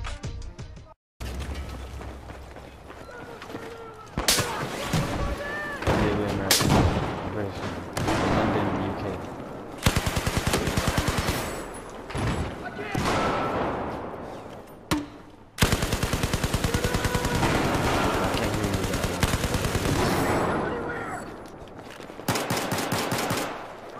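Repeated bursts of BRM gunfire in Black Ops 3, loud close volleys of rapid shots separated by brief pauses, with a voice talking over parts of the firing.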